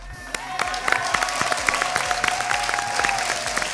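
Audience clapping in a TV studio, a dense burst of rhythmic hand claps with a few sharp louder claps standing out, steady and fairly close.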